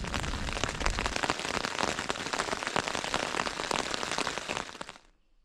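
Steady, dense rain pattering on a tent at night at a Colorado Trail camp near Rolling Creek Trailhead, close and continuous, with no other sounds, cutting off abruptly near the end.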